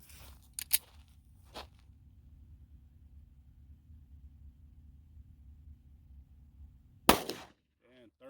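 9mm Speer Gold Dot 124 grain +P rounds fired outdoors: a couple of faint sharp reports early, then one loud close gunshot with a brief crack and tail near the end, with a short voice right after.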